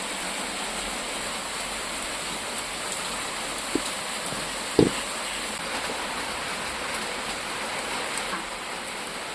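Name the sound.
rain during Cyclone Fengal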